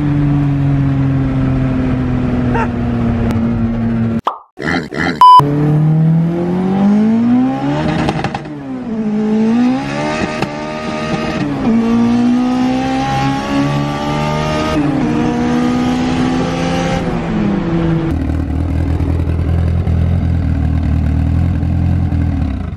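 A Z06 Corvette revs hard during a burnout, its engine note climbing and falling in sweeping rises, loud and close, with a brief sharp break early on and a lower steady idle toward the end.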